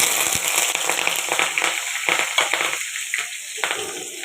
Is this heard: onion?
yes